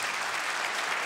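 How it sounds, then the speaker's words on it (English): Church congregation claps for guests in a brief, dense, steady burst of applause filling the room. "So can we clap it up one more time for our guests?"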